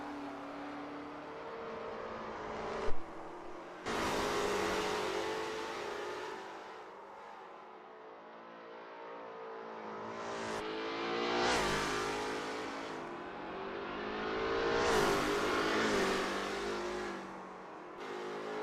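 Lola T70 MkII Spyder race cars roar past in a 1967 Kyalami sim race, engines swelling and fading in repeated passes with rising and falling pitch, loud and close, no talk.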